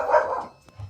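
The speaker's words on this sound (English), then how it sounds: "dog's barking, wait a sec." A dog barks once, loud and fairly close, with a fainter yip trailing after it.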